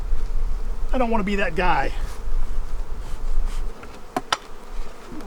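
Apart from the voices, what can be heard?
honey bees buzzing at an opened beehive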